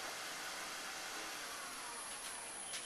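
A buffing machine polishes a cherry wood hollow vase, producing a steady, even, broadband whir without pauses, moderately close.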